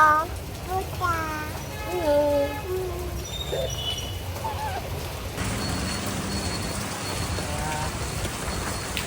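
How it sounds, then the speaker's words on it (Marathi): Heavy rain pours steadily outside, a dense hiss of drops that grows fuller partway through, while voices sing and chatter over it in the foreground. "बाहेर छान असा पाऊस पडतोय"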